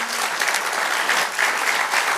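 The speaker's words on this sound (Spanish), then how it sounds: "Dale un aplauso al Señor." A church congregation breaks into steady, dense applause during a Spanish-language sermon, filling the space evenly for a couple of seconds with no voices over it.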